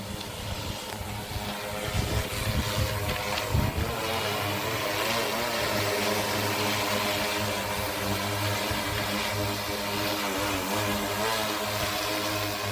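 Agricultural spraying drone flying overhead while dispersing pesticide, its rotors giving a steady, loud droning buzz with strong downwash gusts across the whole stretch.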